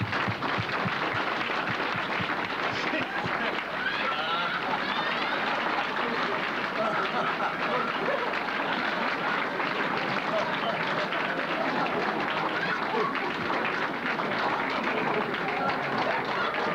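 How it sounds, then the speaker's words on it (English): Sustained applause from a large audience at a graduation ceremony for the class of 1992, a dense, even wash of many hands clapping without pause throughout. "would you help me give a round of applause for the graduating class of"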